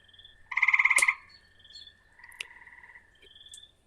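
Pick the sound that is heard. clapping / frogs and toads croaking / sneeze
frogs and toads croaking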